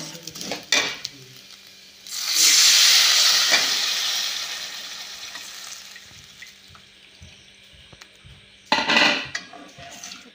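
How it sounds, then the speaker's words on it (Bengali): Water poured into a pan of lightly fried Gobindabhog rice, a loud hissing rush of steam and splashing that slowly fades, with a sharp clatter of the pan near the start and again near the end, close by with no talk. "চালটা হালকা করে ভেজে নিয়েছি, এবারে আমি জল দিয়ে দেবো সেদ্ধ হওয়ার জন্য।"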